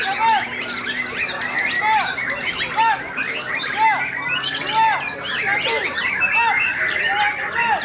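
A white-rumped shama (murai batu) sings at a songbird contest: loud, repeated whistled phrases and chirps alongside other birds' calls, with people talking in the background.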